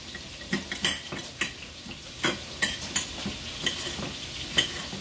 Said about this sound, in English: Add the onion to the sweat vegetables.